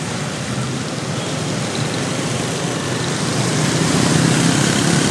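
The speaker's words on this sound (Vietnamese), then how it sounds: "cũng mưa bắt đầu cũng nặng hạt hơn rồi nè" Heavy night rain pours steadily onto a street in Saigon's District 7, a dense continuous hiss that swells slightly louder toward the end, with no voices.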